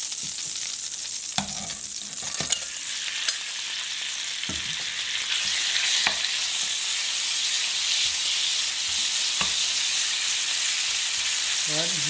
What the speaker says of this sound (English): I'm gonna fry this chicken here